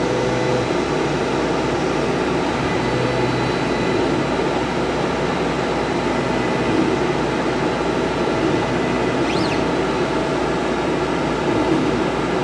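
A laser cutter running in a workshop, a steady loud mechanical hum and fan-like whir with a constant droning tone and no breaks.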